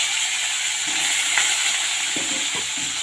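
Panch phoron spices sizzling in hot oil in a pan, a steady bright hissing crackle close up with a few soft clinks of stirring.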